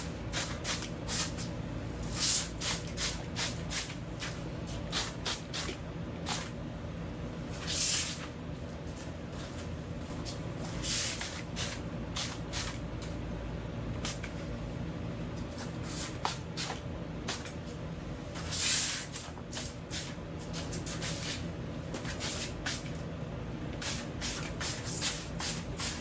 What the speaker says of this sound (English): Round 2, we're gonna use a traditional spray gun.